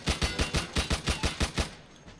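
A video game firearm fires a fast burst of about ten evenly spaced shots, loud and close, then falls silent for the last half second.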